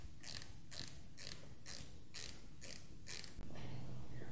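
A wrench loosens the rim lock nut on a motorbike wheel during a tyre change, giving a close run of evenly spaced ratcheting clicks, about eight in a row, followed by a short knock.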